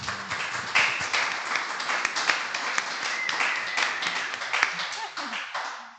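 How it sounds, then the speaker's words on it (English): Audience at a research association conference gives a round of applause for incoming speakers, steady dense clapping from a moderately sized room, fairly even and unbroken before tapering at the end. "So give them a round of applause."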